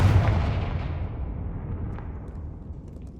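A Confringo spell explosion in a Hogwarts video game: a heavy booming blast right at the start whose deep rumble slowly decays over the following seconds, with no voices.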